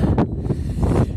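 Outdoors on a hilltop near Orpesa, wind buffets a handheld microphone in loud, uneven low gusts and thumps over about a second, with no speech.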